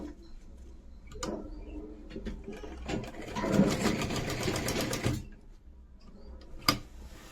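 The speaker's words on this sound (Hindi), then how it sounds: "हमें पहले यहाँ से इस पर ऐसे सिलाई लगानी है।" Sewing machine stitching a ladies' pant, a rapid run of stitching that builds loud for a couple of seconds between quieter clicks and handling noises, close and without talk.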